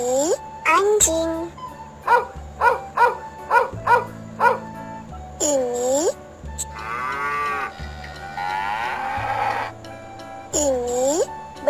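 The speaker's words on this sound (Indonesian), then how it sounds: "Ini anjing." A dog barks in a rapid series of short, sharp yaps over steady background music, with drawn-out lowing calls from cattle breaking in between.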